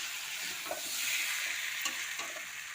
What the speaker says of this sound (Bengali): কুমড়ো আলু মশলা একসঙ্গে কষে নিলাম।